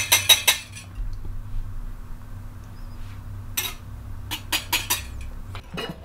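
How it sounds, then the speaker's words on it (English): Fork whisking two eggs in a bowl before they go into warm potatoes for gnocchi, quick rapid clinks of metal on the bowl at the start and in later bursts, close, with quiet gaps between. "I'm gonna whisk 2 eggs and add them in."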